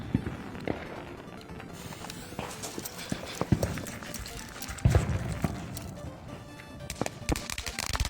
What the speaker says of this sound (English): Today I'm lighting off my first firework in over 5 years.